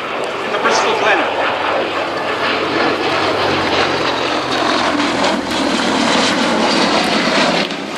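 Gloster Gladiator biplane engine droning steadily through a flying display at Old Warden, a loud sustained roar that holds for the full stretch while a commentator talks over it.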